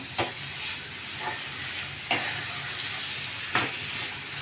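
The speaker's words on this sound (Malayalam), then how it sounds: "ഇതെല്ലാം ഇട്ടൊന്ന് ഇളക്കുക. ഉപ്പ് ആവശ്യത്തിന് ഇട്ട് കൊടുക്കുക." Vegetables with curry leaves, garam masala and salt fry in a pan under a continuous hissing sizzle, broken by about four distinct scraping stirs of a spoon.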